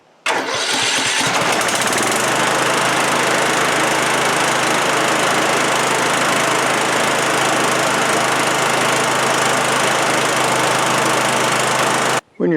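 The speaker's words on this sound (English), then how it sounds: "we're going to turn the engine a few times and see if we have accomplished anything worthwhile." A Kohler engine on a Husqvarna lawnmower cranks briefly, then catches and runs loud and steady at close range for about ten seconds before cutting off abruptly.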